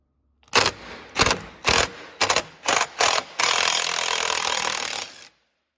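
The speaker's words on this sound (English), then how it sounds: "these fasteners come out with a 5 millimeter metric Allen" A ratcheting tool backs out 5 mm metric Allen head fasteners from a Yamaha G29 golf cart seat: six short, loud bursts of mechanical clicking, then one longer continuous ratchet run, close up and without speech.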